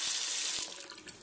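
A tap runs into a sink at close range, with a brief strong hiss of water that eases and tapers off within about a second.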